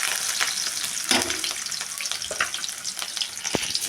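Onion and green chillies fry in hot oil with cumin and mustard seeds, a steady close crackling sizzle with a few sharper pops and stirring clinks, no talking.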